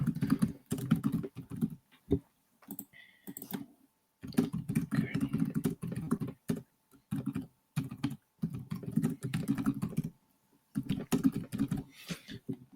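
Rapid typing on a computer keyboard, close and fairly quiet, coming in bursts of clattering keystrokes separated by short pauses, with no voices over it.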